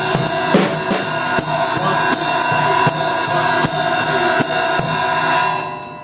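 Jazz ensemble swinging in 4/4 time, with steady evenly spaced beats and sharp cymbal or drum accents over a dense band sound, loud and continuous, fading slightly at the end.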